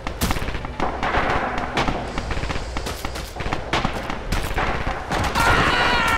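Gunfire in the multiplayer war game Red Orchestra 2, a dense, loud battle of overlapping rifle and machine-gun shots, sharp cracks near and far, rolling on without pause.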